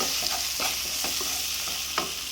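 A thick masala of chilli powder and chicken curry powder sizzles gently in a hot pan while a spoon stirs it with soft scraping strokes every half second or so.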